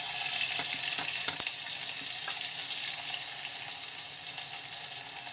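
Ginger-garlic paste fries in hot oil as a tempering for lasuni palak, giving a steady, close, dense sizzle throughout with a few small clicks of utensils.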